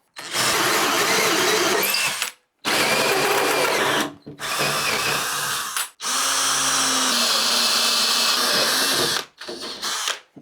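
A power drill bores a hole through a door for a deadbolt, whining loudly and close in several long bursts separated by short pauses, with no talking.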